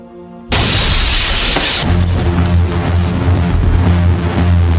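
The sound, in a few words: glass bed shattering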